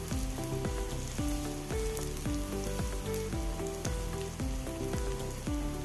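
Sliced onions frying in coconut oil with masala for a jackfruit seed thoran, a dense steady sizzle with rhythmic scraping strokes repeating throughout, loud and close with no voices.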